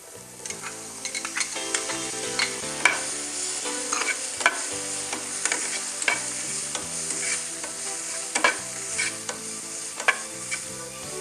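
Chopped carrots and boiled beans are sautéed in a pan, a continuous sizzle broken by frequent clanks and scrapes of the spoon, with faint music in the background.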